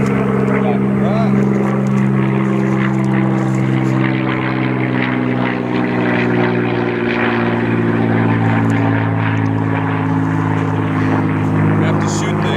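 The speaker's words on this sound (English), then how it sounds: "Have to shoot the airplanes flying over." A small propeller airplane flies overhead near a local airport at a horse training session, its engine a steady, loud droning hum with a throbbing buzz that holds for the whole stretch.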